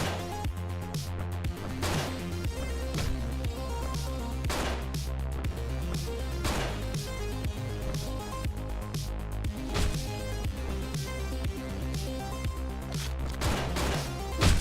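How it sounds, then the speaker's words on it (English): Gunshots in the video game Hotline Miami 2, sharp blasts repeating every couple of seconds over a pulsing electronic music track, fairly loud and punchy. "Nice sense to only react to your gunshots."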